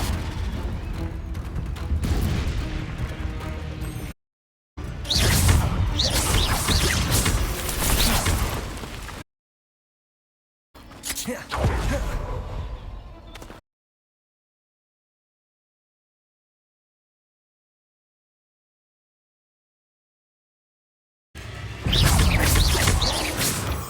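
Explosive Confringo spell blasts in Hogwarts Legacy, loud booming bursts with whooshing tails, coming in separate bouts split by stretches of dead silence.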